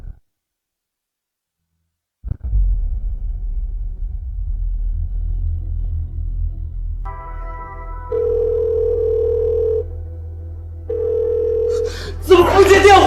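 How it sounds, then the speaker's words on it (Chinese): An unanswered phone call: after silence and a low rumble, a ringback tone sounds in two long, steady electronic beeps, then a brief noisy burst at the end. "怎么不接电话？"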